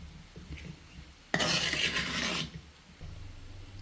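A spoon stirs and mixes ingredients for a Kerala thoran made with broad bean flowers, a short scraping burst against the pan standing out over a quiet background hum.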